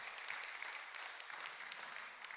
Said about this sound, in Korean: 박수를 치시면 확실하게 한번 칠까요?